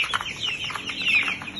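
A flock of twenty young roosters squabbling and bumping into one another gives off a brief, steady stretch of clucking calls and rustling, close and fairly loud with no voices.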